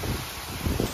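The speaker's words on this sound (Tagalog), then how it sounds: "sobrang lakas ng ulan at hangin" Heavy rain and strong wind at a stormy roadside stop in Nueva Ecija, Philippines, a dense steady wash of noise and gusting buffeting close to the microphone, with no speech.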